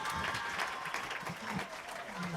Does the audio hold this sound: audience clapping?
yes